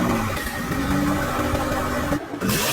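A rebuilt salvage-title car's engine runs steadily right after its first start following a period of inactivity, a loud close mid-pitched hum with a brief dip near the end and no talk.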